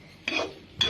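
Jackfruit seeds stirred with masala in a pan for a sukka fry: two short, soft scraping rasps of a spoon against the pan, close and quiet, with a brief pause between them.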